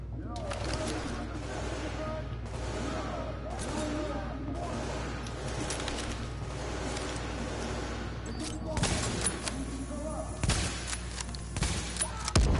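Gunfire crackles in the game Tom Clancy's The Division, scattered bursts and shots over a steady background, growing louder and denser toward the end, with talk over it.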